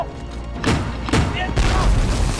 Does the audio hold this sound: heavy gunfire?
yes